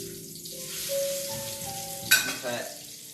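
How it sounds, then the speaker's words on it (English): Pork tenderloin searing in a hot pan gives a steady close sizzle and crackle, with a sharp clatter partway through as the meat is moved or turned, and no one talking. "this pork tenderloin is actually starting to pan sear a little bit"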